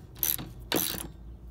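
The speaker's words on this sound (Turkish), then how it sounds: "Arka amortisör alt civatalarını 105 Nm ile tamamen sıkıyoruz." Ratchet tightening the rear shock absorber lower bolts on a Renault Megane 3, two short bursts of rapid metallic clicking close by, with quiet pauses between and no talk.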